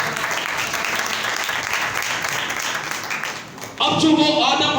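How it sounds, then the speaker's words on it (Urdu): A church congregation applauds loudly in dense, steady clapping throughout, dipping briefly near the end before a voice begins speaking over renewed noise. "زوردار تالیاں خدا ان کے لیے بجا دیں۔"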